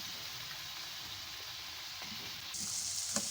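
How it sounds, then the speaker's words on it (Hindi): Potatoes going into a pan of spinach and tomato curry for aloo palak, a soft steady sizzle that grows louder and brighter partway through, with a couple of light knocks near the end. "अब मैं इसमें अपने आलू ऐड करूँगी सारे।"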